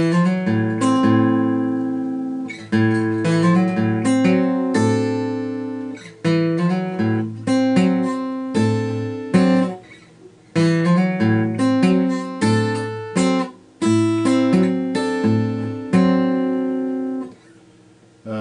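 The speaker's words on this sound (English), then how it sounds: "You're sliding up, and then you're hitting that bass note right as you complete the slide." A plucked guitar riff with notes sliding upward into a deep bass note, repeated several times in a slow, halting rhythm with brief pauses.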